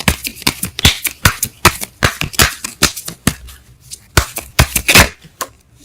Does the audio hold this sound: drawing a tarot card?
yes